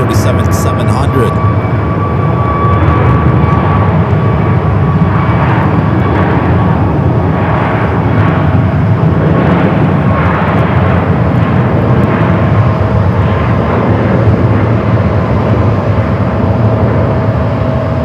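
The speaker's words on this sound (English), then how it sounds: "Southwest Airlines flight 2599 coming in from San Antonio," Southwest Airlines Boeing 737-700 arriving from San Antonio and landing at Phoenix Sky Harbor, a steady loud broadband jet roar that holds for the whole stretch with rumbling low end and faint voices mixed underneath.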